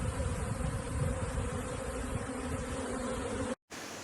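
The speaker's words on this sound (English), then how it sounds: "yesterday we caught a swarm of bees up here in the tree" A swarm of honeybees clustered on a tree branch gives off a dense, continuous buzz, steady and close, that cuts out briefly just before the end.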